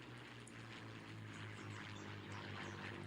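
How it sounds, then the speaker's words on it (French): Propeller aircraft engines of a plane circling overhead above the Normandy countryside during the Second World War give a steady, continuous low drone that holds at a fairly even level throughout, with no voices. "Dans le ciel, on entend les moteurs d'un avion qui semble tourner au-dessus de Yéville."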